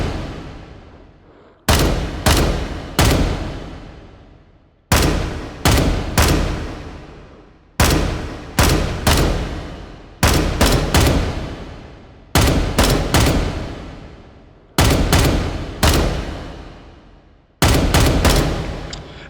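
Bursts of gunfire at targets in the VR shooting game H3VR, sharp reports fired in quick clusters of three or four with short pauses between groups, loud and close with no talk.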